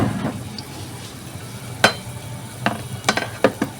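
Garlic dropped into a hot pan for Filipino beef steak, with a low sizzle under several sharp clacks of a utensil stirring against the pan, close and intermittent.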